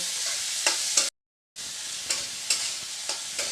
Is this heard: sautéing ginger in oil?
yes